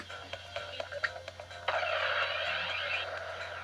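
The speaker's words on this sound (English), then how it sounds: "And next is the nuke" Nuke weapon effect in the audio game Troopanum 2, a run of short croaky electronic blips followed by a sustained buzzing, warbling burst, moderately loud over a low steady hum.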